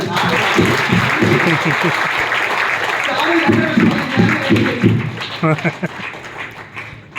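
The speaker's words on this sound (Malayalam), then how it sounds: "കൈയടിക്കുക" An audience at a self-employment motivational talk claps together, a dense burst of applause that thins into scattered claps toward the end, loud and close.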